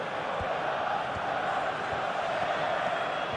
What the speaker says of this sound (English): Now the crowd are demanding that they just finish this off.